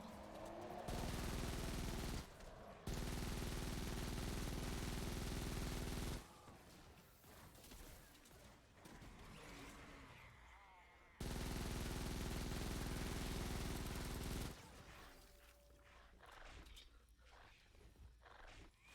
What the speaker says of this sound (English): So the Terminator is pretty fast firing, I'd say.